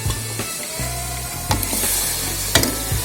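Onions frying in a kadai, a steady hiss over a low hum with a few sharp stirring knocks.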